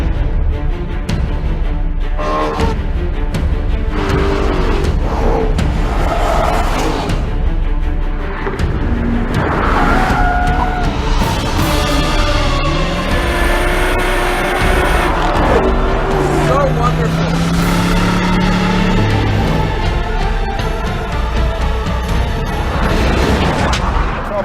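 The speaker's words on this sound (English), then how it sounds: "This car just rockets. Just rockets. I mean, it's a missile." A fast car accelerates hard on a track, a loud continuous engine roar that rises and falls through gear changes and drifts into tire squeals, with someone talking over it.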